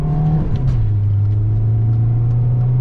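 Car engine held at high RPM, a loud steady drone that dips slightly in pitch early on, then settles into a constant sustained rev.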